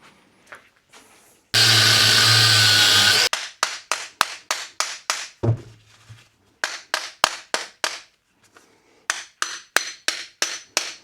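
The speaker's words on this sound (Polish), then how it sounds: "nie da się odkręcić, będę ciął" A power tool cuts loudly through a stuck screw on an old coffee grinder in one continuous burst of about two seconds. A long series of sharp, evenly spaced hammer-like knocks follows, close and loud.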